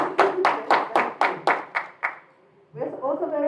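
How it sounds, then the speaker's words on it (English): About eight sharp, evenly spaced claps at a conference for school leaders, close and distinct, tapering off, after which a voice begins talking. "You can give them a clap."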